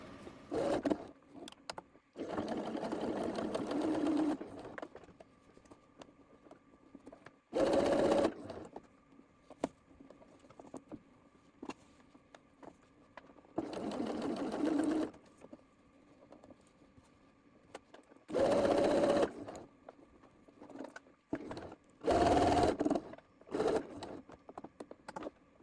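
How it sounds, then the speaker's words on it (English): Sewing machine running a straight line of stitching along a 1/4 inch seam allowance, heard in several separate bursts of steady motor whir with quiet pauses between them, close and clear with no talking. "I will sew along at 1/4 of an inch seam allowance. Just a line of stitching across this."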